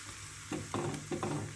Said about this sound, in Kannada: ನಾನಿವಾಗ ಹಲಸಿನಕಾಯಿ ಹಪ್ಪಳನ ಈ ಎಣ್ಣೆಯಲ್ಲಿ ಫ್ರೈ ಮಾಡ್ತಾ ಇದ್ದೀನಿ